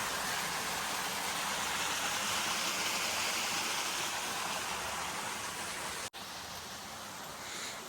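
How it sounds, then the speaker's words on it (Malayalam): A waterfall-like stream at a resort in Wayanad rushes as a steady, broad roar of flowing water, continuous and fairly close, with one brief dropout near the end. "ഈ വെള്ളച്ചാട്ടം പോലത്തെ സ്ഥലം നമുക്ക് എൻജോയ് ചെയ്യാം."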